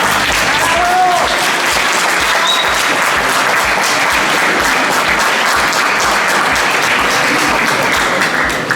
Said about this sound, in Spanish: bienvenidos esos aplausos para ella y más fuertes tienen que ser